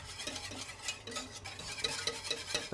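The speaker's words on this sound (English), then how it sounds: "Using the whisk to help you get out any remaining lumps." A whisk knocks and scrapes quickly against a pan of white sauce for a mushroom pasta bake, a light rhythmic clatter of small taps over faint background sizzle.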